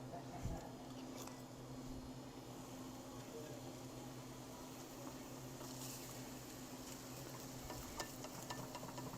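Candy bacon fries in a pan over too-high heat on a stove, making a faint, steady sizzle with occasional scraping as the pieces are moved around.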